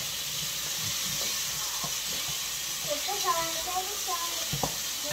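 Onion for chopsuey sautés in a pan with a soft, continuous hiss and sizzle, while voices talk over it in the middle and a few light clinks sound near the end.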